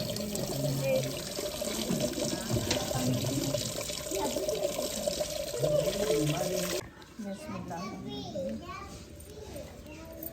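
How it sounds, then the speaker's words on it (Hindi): Raw meat is rinsed in water in a pot for a large home-cooked feast. Water runs and sloshes steadily up close while children chatter, then the flow cuts off abruptly and quieter splashing follows. "फिर उसमें धो के रखती जाओ।"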